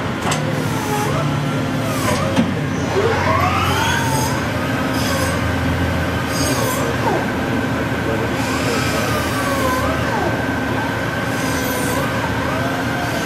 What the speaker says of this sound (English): 500 RPM once again. This is the top for the first gear load.